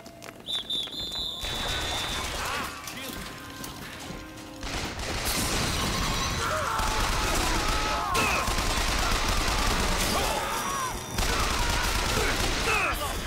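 Sustained gunfire from the first-person shooter BioShock Infinite rattles through most of the stretch, dense overlapping shots and mechanical clatter running nearly continuously after a brief lull, with voices shouting over the battle.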